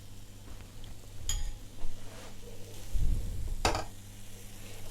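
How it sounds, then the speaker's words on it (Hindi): Puran filling being mashed and cooked with ghee in a pan: soft scraping and stirring with a couple of sharp metallic knocks from the masher against the pan, over a low steady hum. "मेरा तो इसीलिए थोड़ा टाइम लग रहा है कि मैं इसे साथ मैश भी कर रही हूँ।"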